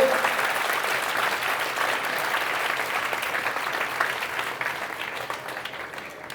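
A crowd at a motivational talk claps steadily for the village head, a thick continuous wash of many hands that holds for several seconds and tapers slightly at the end.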